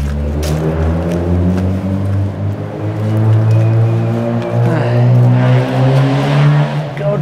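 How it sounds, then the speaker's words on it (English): A loud motorbike engine drones close by near All Saints church in Bingley, its pitch shifting as it revs and rumbles past, with no talking. "I don't like motorbike sounds. It's too loud. I hate that noise."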